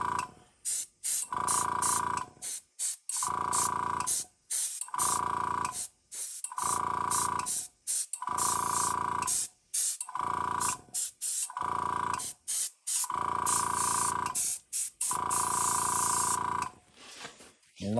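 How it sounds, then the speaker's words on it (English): Spray paint hisses in a string of roughly ten short bursts onto a slot car being weathered, each blast close and steady with brief gaps between, the can held at varying distance. "if you go from a distance when you spray it, it'll create a little bit more of a grainy effect on the surface"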